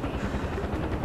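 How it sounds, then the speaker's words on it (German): Steady, rumbling helicopter rotor noise in the video game Far Cry 4, with a throbbing low-end pulse, fills the short stretch, loud and continuous, with no voices. "Ich höre einen Hubschrauber."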